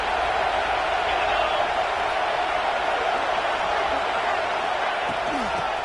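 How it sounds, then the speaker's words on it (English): A large stadium crowd at a college football game, LSU versus Clemson, roars in a dense, steady, loud wash of cheering that holds unbroken throughout. "This crowd knows when to bring it."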